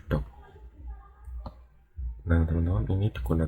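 A few sharp computer mouse clicks sound close and distinct, one standing out alone, with a person talking before and after them.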